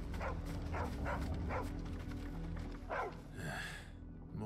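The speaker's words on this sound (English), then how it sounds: "the dog is barking at her" A dog in Final Fantasy XVI barks repeatedly, five or six close, sharp woofs in a steady rhythm over a low ambient background, followed by a softer whine at the end.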